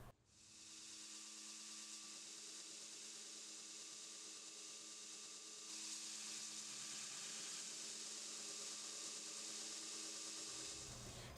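A power grinder steadily grinds off a pin and flattens a glued-up Bowie knife handle block. The broadband whine runs continuously at close range and gets slightly louder partway through, with no voices.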